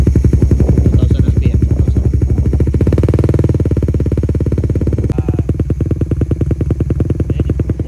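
A motorcycle fitted with an Itzalaya power pipe exhaust is revved for a decibel test, sending out a loud, close, pulsing exhaust drone that swells in speed at mid-clip and then settles back.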